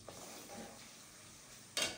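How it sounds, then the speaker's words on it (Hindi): Onions browning in a pan for beef nihari, a soft, steady sizzle with faint stirring and a sharper scrape of a utensil near the end. "मैंने प्याज ब्राउन करने के लिए रख दिया निहारी के लिए"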